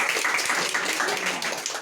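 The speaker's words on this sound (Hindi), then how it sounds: "तालियां बजाइए" Children in a village classroom quiz competition give short bursts of clapping, scattered and moderately loud, lasting under two seconds.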